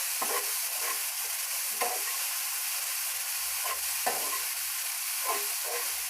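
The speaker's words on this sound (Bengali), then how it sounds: "হাফ চা চামচ ধনে গুঁড়ো, দিয়ে এটাকে খুব ভালো করে একটু ভেজে নিতে হবে।" Spices and coriander powder fry in a pan with a steady hissing sizzle, punctuated every second or so by scraping stirs, close and moderately loud, with no talking.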